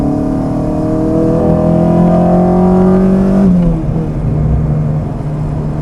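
A Renault Clio 182 fitted with a Honda K20 VTEC engine, driven on a track, revs loudly and climbs steadily in pitch. At about 3.5 seconds it shifts sharply into a harsher note, then keeps pulling hard, close and alone.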